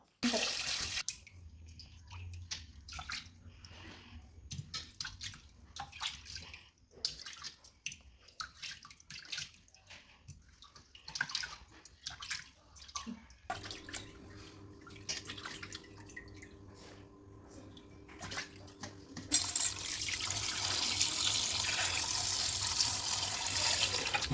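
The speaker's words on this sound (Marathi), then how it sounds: "सगळ्यात आधी मासे स्वच्छ धुवून घ्यायचे आहे दोन तीन वेळेस आपल्याला हे मासे स्वच्छ धुवून घ्यायचे" Fish being rinsed in water for a fish thali: irregular splashes, drips and handling noises give way to a steady stream of running tap water near the end, with no talking.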